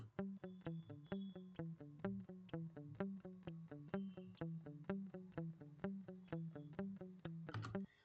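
An electric guitar with effects plucks the same few notes over and over in a steady, quick rhythmic pattern, quiet and without voices.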